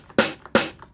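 Raw drum sample from a Yamaha RX5 drum machine with its envelope loop off, played twice: sharp, loud noisy hits with bright splashy decay, spaced about a third of a second apart, with faint softer ticks between.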